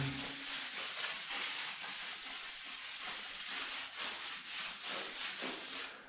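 A sponge rubs mosaic tiles clean in a continuous, fairly quiet scrubbing rasp with soft rhythmic strokes and no talk.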